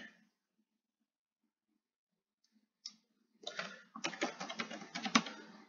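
Computer mouse clicks and light desk taps while browsing a website, sparse at first and then a quick cluster of close, crisp clicks after a near-silent stretch.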